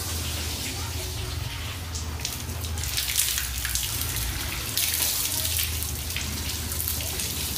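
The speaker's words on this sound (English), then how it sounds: "we'll do a sheet test, water sheet test, and see how it sheets off the surface real quick" A steady, hissing stream of water runs continuously over a car finished with a Cquartz ceramic coating, sheeting off the surface in an unbroken wash.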